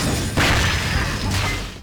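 Shattering and disintegration effects from the video game Travis Strikes Again: two loud crashing bursts in quick succession, each ringing briefly before fading.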